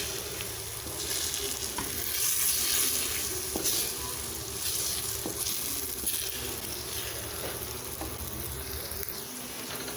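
Food frying in a pan with a steady sizzle while it is stirred gently, with soft scraping strokes over the constant hiss and no voices.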